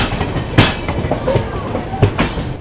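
A Machilipatnam–Dharmavaram express train rolls into a station platform at Gudivada Junction, with steady rumbling and a few sharp clattering wheel knocks over the rails, heard fairly close.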